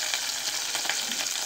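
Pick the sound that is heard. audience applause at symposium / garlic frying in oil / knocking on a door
garlic frying in oil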